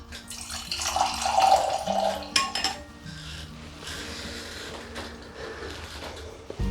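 Homemade apple cider is poured into a wine glass: a gurgling stream of liquid swells and fades, with a brief glassy clink partway through and quieter trickling afterward.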